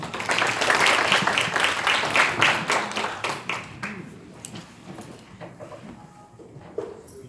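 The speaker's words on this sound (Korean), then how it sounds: "큰 박수로 맞아주시기 바랍니다" Seminar audience at Trade Tower in Samseong-dong, Seoul, applauding to welcome a speaker: dense clapping for the first few seconds that tapers off into scattered claps and room quiet.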